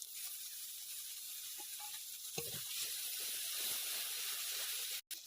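Two spoons of beaten sour yogurt hit a hot, frying spice masala with green chilies for bhindi masala, setting off a loud, steady hiss and sizzle. It runs unbroken until a brief cut near the end.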